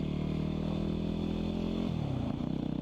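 A Yamaha WR250X motorcycle with a Two Brothers carbon M7 race exhaust runs steadily and loudly up close, with a rumbling idle that shifts in pitch near the end.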